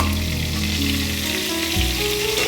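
Fish sizzling steadily in hot oil in a frying pan while being fried for a Bengali shankar (stingray) fish dish, a continuous close crackle with no talk.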